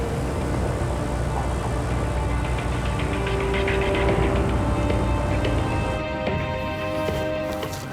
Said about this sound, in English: Here comes the airplane now.